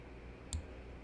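A single crisp computer mouse right-click in Fusion 360, one short sharp tick against a quiet, low hum in the room.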